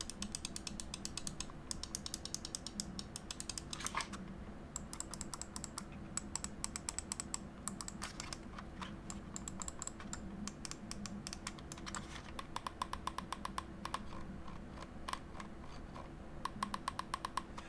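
The buttons of a Razer Viper gaming mouse click rapidly and continuously for many seconds. The crisp little snaps sound close and fairly quiet, in uneven bursts.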